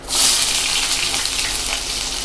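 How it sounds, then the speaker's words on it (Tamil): Onions dropped into hot oil where mustard seeds are popping, a sudden loud sizzle that swells and holds as a bright steady frying hiss, close up, no voices. "இப்போ கடுகு நல்லா பொரிஞ்சிருச்சு, வெங்காயம் ஆட் பண்ணிடலாம்"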